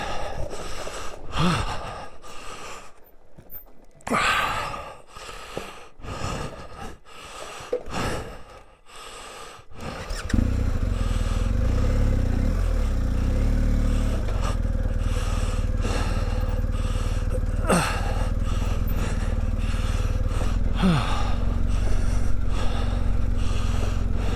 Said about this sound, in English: I am breathing pretty hard